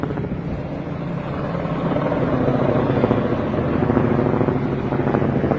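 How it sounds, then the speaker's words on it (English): Helicopter flying overhead and banking across the sky, a loud continuous rotor thrum with pulsing chop that swells slightly as it passes. "There's a helicopter going. You see it banking across the sky there."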